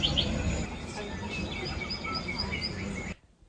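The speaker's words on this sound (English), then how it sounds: "There's like some birds chirping as a sound effect" Small birds chirp and tweet repeatedly over a dense, hissing background of ambient noise, then everything cuts off abruptly.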